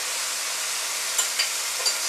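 Mushrooms stirred in a cooking pot: a steady simmering hiss with a few faint utensil taps against the pot.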